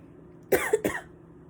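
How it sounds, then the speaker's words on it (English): Two quick, close coughs in succession break a quiet background, sharp and short with a brief gap between them. "I do just cough"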